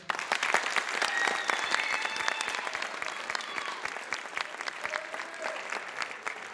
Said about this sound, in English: typically anytime someone walks out onto the stage, we want to give them a round of applause